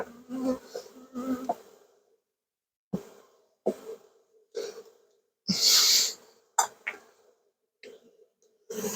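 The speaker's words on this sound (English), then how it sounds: "Lots and lots of bees here." Honey bees buzz close by during an inspection of an open hive with drone brood and pollen, coming in short, uneven bursts separated by quiet gaps, with one louder hissy burst midway.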